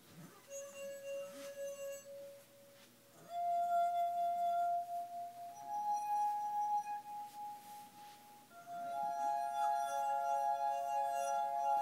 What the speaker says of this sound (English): Ben Franklin invented the glass harmonica.